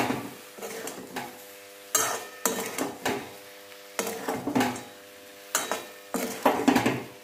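Fish curry being stirred and mixed with coriander leaves in a pan, with repeated scraping and clinking of a utensil against the metal in short irregular bursts over a faint background sizzle.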